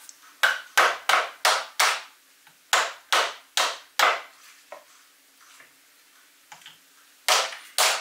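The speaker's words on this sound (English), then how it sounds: "I am a little terrified to hammer onto a stepper like this" Sharp metallic hammer taps, driving a pulley onto a stepper motor shaft, strike in quick bursts of four or five, close and loud, with short pauses between groups and a few lighter knocks.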